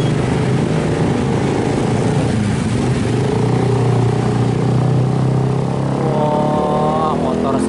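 Motor traffic on a road during the post-Lebaran return rush, with motorcycles and buses. The engines drone loud and continuous as vehicles pass close by, and a rising whine is heard near the end. A voice speaks over part of it.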